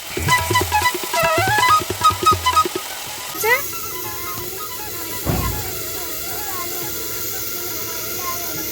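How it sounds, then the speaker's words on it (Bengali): Potatoes frying in a pan in a home kitchen give off a steady, fairly loud broadband hiss. It takes over after a short passage of tonal music and continues to the end. "এদিকে তো আমি আলুটা ভাজছি"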